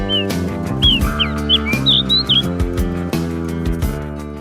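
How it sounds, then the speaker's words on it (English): A white bushchat, a small songbird of open country, gives a series of short, clear chirps and whistled notes over a steady, loud background of layered music with repeated beats. "White bushchat is a small bird usually seen in open places."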